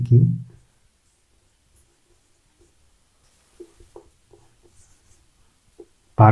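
A pen scratches on paper in short, quiet strokes while a math problem is worked out, with brief talk at the start and the end.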